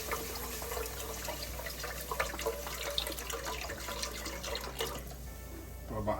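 Beef broth pours in a continuous splashing stream into a cooking pot in a home kitchen, steady and close for several seconds.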